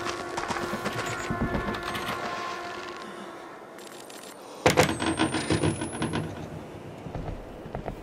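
A door rattles and clunks without opening in the horror video game Outlast 2, with wooden knocks and jolts over a dim ambient background, a louder burst of rattling partway through.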